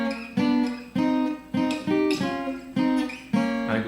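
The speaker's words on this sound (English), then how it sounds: "So that riff that we hear happens all on the 2nd and the 3rd strings," An electric guitar plays a repeated riff on the second and third strings from a song, with a series of distinct, evenly spaced strummed chord stabs that ring clearly with no voice over them.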